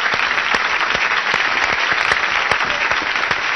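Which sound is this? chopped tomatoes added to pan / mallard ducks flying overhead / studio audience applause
studio audience applause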